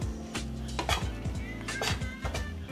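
Metal spoon stirring mohan thal mixture in a hot kadhai, with repeated scraping clanks against the pan in an uneven rhythm, close and fairly loud.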